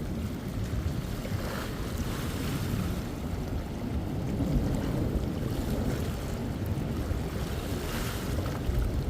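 Steady, heavy rush of choppy river water and waves, continuous and loud, with wind buffeting the microphone throughout.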